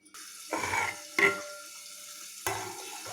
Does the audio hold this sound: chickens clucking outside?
no